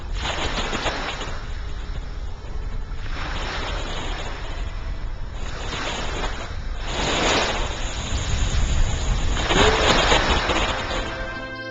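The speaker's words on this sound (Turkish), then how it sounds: "Denizin gönderdiği dalgalar karaya birer selam gibi fısıldamakta" Black Sea waves roll onto Kocaağa beach in Kocaeli, a steady loud wash of surf with several swelling crashes every couple of seconds, growing heavier toward the end.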